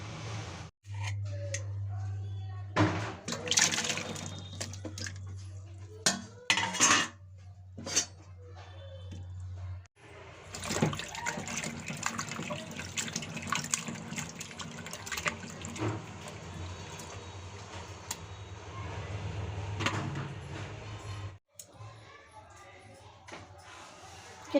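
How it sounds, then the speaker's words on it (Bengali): Cut pumpkin pieces are washed by hand in a bowl of water. Close splashing and sloshing come in bursts, with brief clatters and a low hum underneath. "এখন আমি এই কেটে রাখা কুমড়োগুলো ধুয়ে নেব"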